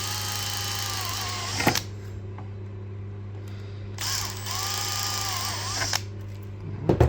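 A drill bit bores holes through an electronics enclosure, with the electronics still inside, in two steady whirring bursts of about two seconds each over a constant background hum.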